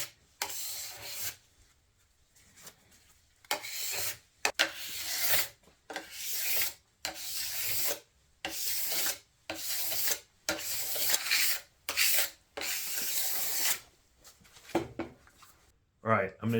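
A plastic scraper rasps repeatedly across a ski base, taking off excess P-Tex or wax in steady back-and-forth strokes with short pauses between them, close and crisp.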